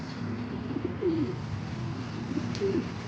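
Soft pigeon coos surface a couple of times over a steady low background hum, fairly faint and a little distant.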